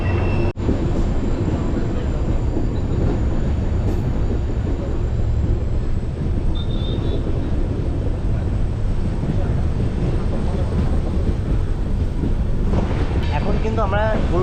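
A train on the Siliguri to Hasimara line runs through tea gardens and hills toward Gulma station near Sevoke. Its steady, loud rumble continues throughout, mixed with wind buffeting the microphone.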